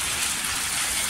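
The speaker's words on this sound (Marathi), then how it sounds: "ह्याच्यामध्ये पाणी तुम्हाला जेवढं पाहिजे तेवढं तुम्ही पाणी टाकू शकता भाजीत" Water pours into a pan of dry Bombay duck curry, a brief, close, continuous gushing splash with no talk.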